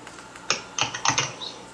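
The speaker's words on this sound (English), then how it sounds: "somebody's typing." Quick keystrokes on a computer keyboard, a brief run of about six or seven close clicky taps in an uneven rhythm, heard alone without talk.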